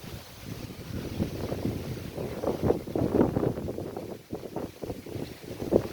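Strong wind gusts roar and buffet in waves, rising and falling in loud bursts close by, with no voices.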